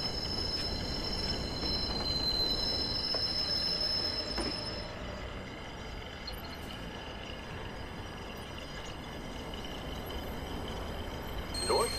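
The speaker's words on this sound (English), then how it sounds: "Southbound train arriving shortly." A train pulls into a station with a steady, loud rumble of rolling wagons and wheels, and thin high squeals ring above it as it comes in.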